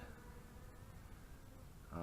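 Bees buzz around an empty top bar hive that has been robbed out, a steady faint insect drone with no talk, swelling louder near the end.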